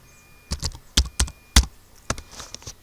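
Keystrokes tapped on a computer keyboard while building an Android login app, about eight distinct clicks in uneven bursts, close and clear with no talking.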